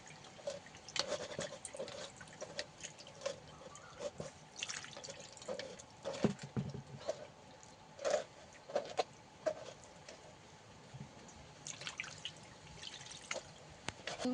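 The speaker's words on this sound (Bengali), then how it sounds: "এবার ছানাটাকে ভালো করে জল দিয়ে ধুয়ে নেব।" Cottage cheese (chhana) being rinsed with water in a strainer, a steady patter of drips and trickling water with small splashes, close and fairly quiet, running throughout with no talk.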